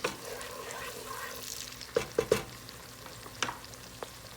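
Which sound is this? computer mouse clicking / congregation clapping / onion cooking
onion cooking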